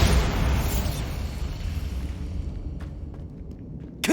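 A Bombarda blasting spell explodes in the video game Hogwarts Legacy with a loud, broad rumbling boom that decays over several seconds, followed by a sharp crack near the end.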